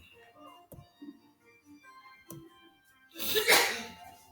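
A single sharp sneeze bursts out near the end after a stretch of quiet room noise with a few faint clicks.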